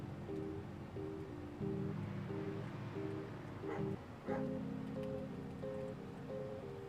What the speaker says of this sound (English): Ignore the dog barking in the background